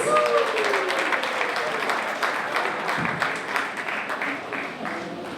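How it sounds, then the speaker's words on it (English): An audience breaks into sustained applause, many hands clapping steadily throughout, with a few voices mixed in. "Another round of applause, guys."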